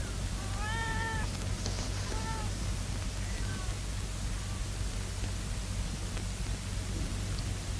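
Domestic cats meow a few times early on, short rising cries at moderate distance over a steady hiss of background noise, then only the constant noise bed remains.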